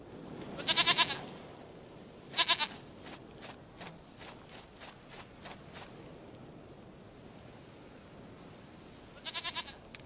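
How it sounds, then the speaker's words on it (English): A goat in The Witcher 3 gives three separate wavering bleats, each clear and close, spaced out over a soft, steady outdoor ambience. "Goat of mine, dearest, sweetest goat."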